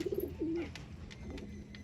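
Giribaz pigeons in a loft at Dhamua give a few soft, low coos early on, close by, before fading into quiet loft ambience.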